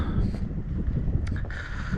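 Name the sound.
strong wind in tunnel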